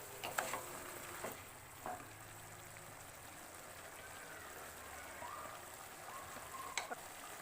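Mutton curry with gongura (sorrel leaves) fries in a home kitchen pan, a steady soft sizzle broken by a few sharp scrapes and clinks of stirring, close and fairly quiet with no talking.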